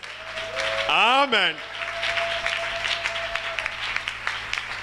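Church congregation clapping and cheering in a burst around one second in, with singing tones and amplified voices over a steady musical drone, followed by continued speech and faint crowd noise.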